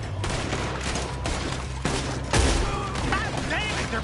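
Shots crack back and forth during a shootout in a western-style video game, a dense, loud fusillade over a rumbling background, with short shouts mixed in.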